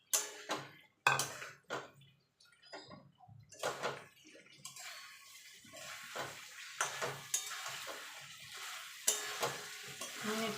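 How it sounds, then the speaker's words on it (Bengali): Potatoes being stirred into a frying spice masala for Bengali doi aloo dum, with scraping stirs and clatter of the pan under a steady sizzle, close by with no talk. "আলুগুলো দিয়ে ভালো করে মশলার সঙ্গে মিশিয়ে নেব"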